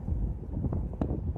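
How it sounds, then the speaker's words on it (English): Wind buffets the microphone outdoors, a loud, low, fluttering rumble with gusty bursts and no clear voices. "It's really windy."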